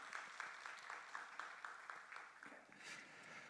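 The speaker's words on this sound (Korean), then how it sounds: "영광의 박수로 다시 한번 올려드리겠습니다" Congregation applauding during a Korean church worship service, a steady wash of many hands clapping, moderately distant and fairly quiet, sustained for the whole span with no talk.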